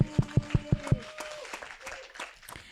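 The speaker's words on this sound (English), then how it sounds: "A big applause to Leo, please" Conference audience applause, opening with five evenly spaced, thumping near claps, then fading into lighter scattered clapping from the room.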